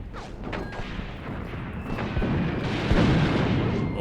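A tank gun fires in an Eastern Front war video game: dull booms and rumbling battle noise under a constant low roar, with heavier thuds near the end.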